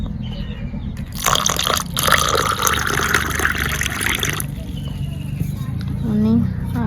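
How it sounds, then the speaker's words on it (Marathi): Cold water poured into a raw mango panha drink, a steady close splashing pour lasting about three seconds over low background noise. "आणि आता त्याच्यात थोडंसं पाणी ॲड करते थंड"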